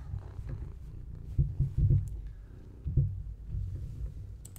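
A cat purrs near a computer keyboard, a low steady rumble close to the microphone with a few soft bumps, and no talking.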